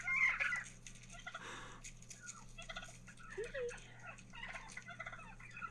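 Wild turkeys gobble and chatter as they chase each other outdoors, several rapid rattling gobbles and squeaky calls in uneven bursts at moderate distance over a faint steady hum.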